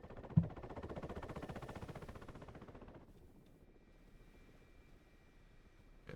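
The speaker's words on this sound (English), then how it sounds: "A helicopter already resupplying you." A helicopter in the DCS flight simulator thrums with a quick rotor chop, fairly faint and distant, before fading to a low background hum partway through.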